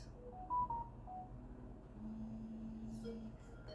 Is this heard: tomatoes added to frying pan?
no